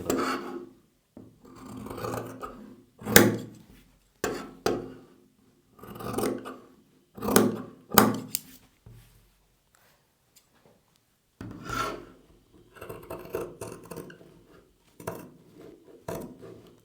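Scissors snip through cloth along a marked line in a series of crisp, rasping cuts, heard close and alone with brief pauses between strokes.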